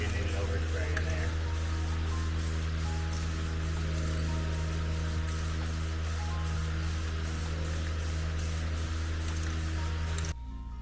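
Aerosol spray paint hissing steadily while touching up hardware heads and scratches on a Chevrolet El Camino inner fender, a continuous close hiss over a low engine-like hum before cutting off abruptly at the end.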